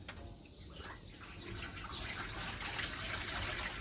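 Water pours and splashes onto a flat metal plate set over cooking chicken, a steady close trickle that grows fuller after a quiet start.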